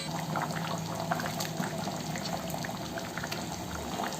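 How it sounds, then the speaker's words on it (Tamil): A pot of dry fish curry simmering gives a quiet, steady bubbling with soft irregular pops and liquid burbles, faint and continuous with no voices. "ஒரு கொதி நல்லா கொதிச்சா போதும்."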